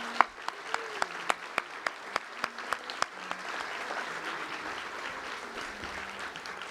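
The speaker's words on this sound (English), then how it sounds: "How about a nice round of applause for all of them?" An audience applauds award honorees at an evening ceremony, beginning with a few distinct, evenly spaced claps that quickly swell into sustained, fairly loud clapping from the whole room.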